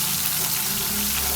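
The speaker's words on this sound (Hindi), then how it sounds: "मसाले को 1 से 2 मिनट तक भून लेते हैं अच्छी तरह।" Spices with salt, crushed red chilli and turmeric fry in a pan for a homemade cluster bean dish, giving a steady close hiss and sizzle throughout with no talk.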